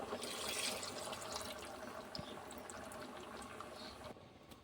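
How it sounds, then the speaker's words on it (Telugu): Water poured into a fish curry in a pan, a soft hissing, bubbling wash of liquid that fades gradually over a few seconds, fairly faint and with no talk. "వాటర్ పోసుకుని ఇలా చేసుకోవాలి."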